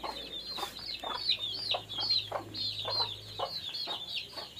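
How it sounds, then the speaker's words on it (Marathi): Hens clucking around a rural house in the Konkan region: a string of short, repeated clucks and squawks at moderate distance over a quiet outdoor background, with no talking. "यासाठी कोंबडी आजीची."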